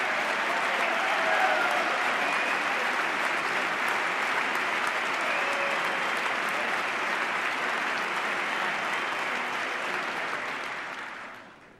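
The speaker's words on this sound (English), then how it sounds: "I thought I'd get some applause on that one." Sustained applause from a large audience in the chamber at the 2010 State of the Union address, a dense even roar of clapping that holds steady for about ten seconds before fading out at the end.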